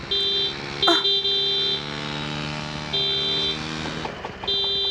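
Car horns blare almost nonstop in a city traffic jam, several layered honks overlapping loud and close, some long and steady, others short toots, with engines rumbling underneath.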